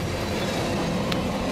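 A BNSF freight train with a GLO leading and a GP38-2 trailing second rolls past on the rails, a loud continuous roar of wheels and cars with a brief high squeal partway through.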